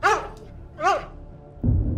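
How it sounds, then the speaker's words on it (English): A dog barks twice in quick succession, close and sharp, followed by a brief rustling noise. "loud, jarring noise shattered the stillness, followed by Max's frantic barking."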